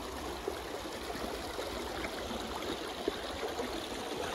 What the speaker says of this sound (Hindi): पत्थर बिच्चू पानी ने, आवाज इंज पे आना जिवें गलनी च मदानी ने